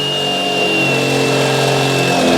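A power drill runs steadily and loudly, holding a constant whining tone as a 9/16 bit enlarges a 1/8 inch pilot hole in the frame of a 2019 Ram 2500 during a Curt E16 fifth wheel hitch installation.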